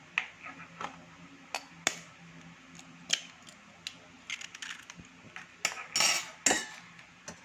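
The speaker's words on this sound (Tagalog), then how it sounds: "Crack po muna natin ang ating eggs" Eggs cracked against a bowl while making French toast: scattered sharp taps and clicks, fairly faint and irregular, with a few louder cracks near the end and no talking.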